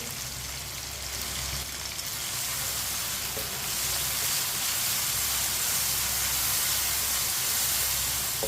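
Green chillies, potato and eggplant fry in a pan for aloo baingan sabzi, giving a steady, loud, unbroken sizzle with a low hum beneath and no talking.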